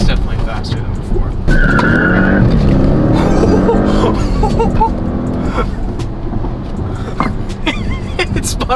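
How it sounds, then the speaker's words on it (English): An Audi S8 launching hard with all four tires spinning, a sustained tire squeal and loud engine roar close by, with a person speaking over parts of it. "It spun all 4 tires. I didn't know it could do that."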